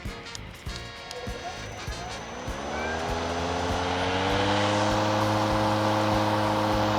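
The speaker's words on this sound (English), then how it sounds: "immediately you can hear that blade speed kick right up" A lawn mower's engine and spinning blade wind up from a rough idle to a steady, high whine that holds loud and even.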